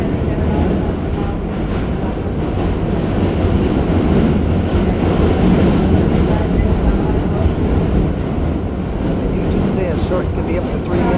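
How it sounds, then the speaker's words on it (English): A New York subway train, a Q train, rumbling across the Manhattan Bridge in a continuous loud roar with rail clatter, heard from close by on the bridge throughout. "That's a cute train over there."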